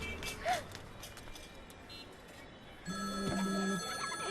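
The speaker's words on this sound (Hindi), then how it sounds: "फिर से फोन करा है।" Telephone ringing in a Hindi film scene, a faint ring followed by a louder electronic ringtone that warbles on steadily in the second half over quiet background.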